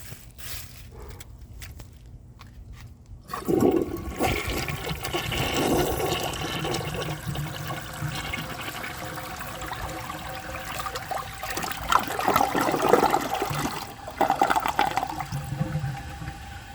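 A 1981 Briggs Conserver concealed jet toilet flushes after a quiet start, with a sudden loud rush of water and gurgling that continues steadily before tapering to a refill trickle.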